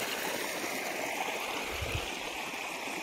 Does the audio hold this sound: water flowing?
yes